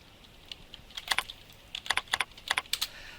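Quick bursts of keystrokes on a computer keyboard, close and fairly quiet, in short irregular clusters with brief pauses between them.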